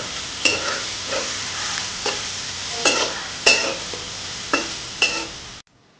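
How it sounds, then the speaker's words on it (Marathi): Lengthwise-sliced onion is sautéed in a pan until soft, with a spatula scraping through it in about eight steady strokes over a continuous sizzle, close and clear, before cutting off abruptly. "आपला कांदा इथे परतून झालाय तुम्ही बघू शकता हा थोडासा मऊ झालाय"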